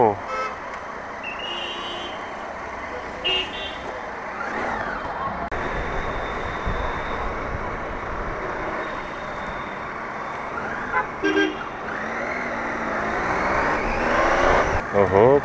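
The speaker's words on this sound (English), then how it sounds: "traffic jam kar diya hai." A traffic jam on the road between Jammu and Chandigarh, with a dense steady hum of idling and crawling cars and trucks, short horn toots breaking through now and then, and voices talking over the traffic.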